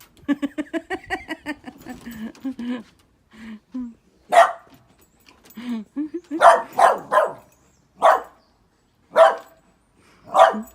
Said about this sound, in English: Stop barking at it and touch it